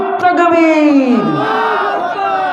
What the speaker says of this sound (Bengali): আরেকটা বার আমরা তাকবির দিচ্ছি